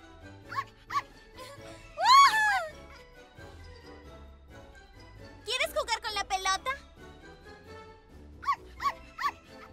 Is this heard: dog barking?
yes